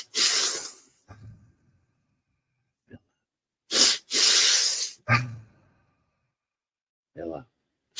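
A person takes slow, deep breaths in and out during a guided breathing exercise, with long loud inhales and exhales separated by pauses; the breathing is close, with no spoken words.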